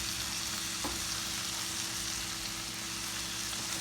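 Shrimp seasoned with salt and pepper fry in a pan, a steady close broadband sizzle that holds evenly throughout with one faint tap partway through.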